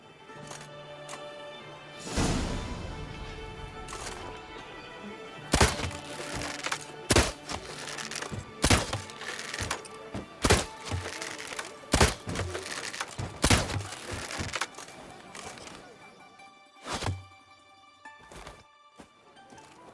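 Arrows thudding into red targets during an archery contest in The Witcher 3 on PS5: a string of sharp, hollow wooden thunks and cracks at irregular intervals, set over a steady bed of game music and ambience, with no talking.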